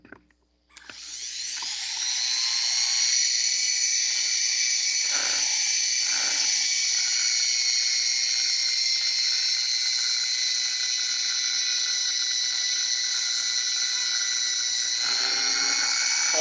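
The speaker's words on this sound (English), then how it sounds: "I'll hit it with a sanding drum." A sanding drum grinds a rock in a loud, steady whine that holds for about fifteen seconds after a brief quiet start, with faint rumbles and knocks beneath it.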